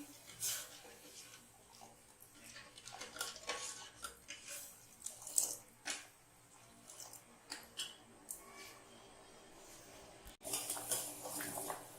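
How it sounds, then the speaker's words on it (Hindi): Sugar syrup for jalebi being stirred in a pan on high flame, with soft scraping and light metallic clinks of the spoon against the pot, faint and intermittent under quiet kitchen ambience. "हम चाशनी को चलाते हुए पकाएंगे।"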